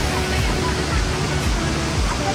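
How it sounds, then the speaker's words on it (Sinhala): A roughly 50 m waterfall in Sri Lanka's Mandaram Nuwara area roars as a constant broadband rush of falling water, loud and close, with no pauses or distinct events. "මීටර් 50ක් විතර උස ලස්සන මාස්කාන්ත ඇල්ල."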